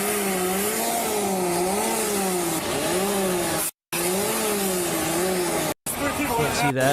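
A semi truck engine revs in a steady, wavering drone with sustained harmonics, cutting out briefly twice, followed by a hiss-like burst near the end as the air brakes release.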